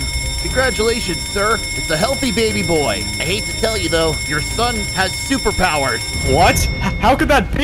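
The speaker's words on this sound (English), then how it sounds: "Uh-oh, that's the fire alarm!" A fire alarm rings in an animated scene, a steady high electronic tone sounding continuously beneath lively character dialogue.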